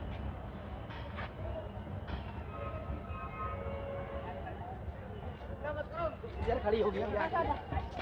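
Passenger train pulling in at Lalkuan station platform in India, a low rumbling roll with clanks and squeals under crowd chatter and nearby talk, growing slightly louder toward the end.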